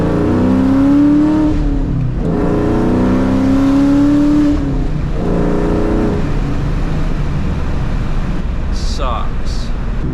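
A loud Mustang Cobra engine revs hard through power shifts, rising in pitch twice with brief drops between, heard close from inside the car, then settling into a steady rumble with chirps near the end.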